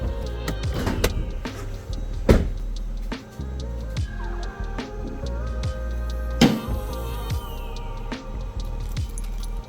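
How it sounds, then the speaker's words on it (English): Clicks and clunks of a B8.5 Audi A4 2.0 TDI being unlocked and its bonnet opened, with a couple of louder latch thuds and jingling, close by with a low background hum. "let's unlock it real quick. I'll open up the bonnet"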